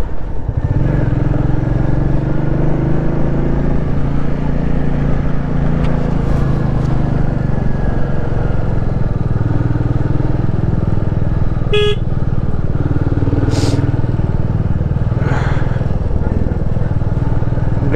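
A motorcycle ridden along a mountain road in North Sikkim, its engine droning loudly and steadily throughout, with wind rumble, a couple of short horn toots and some voice in the mix.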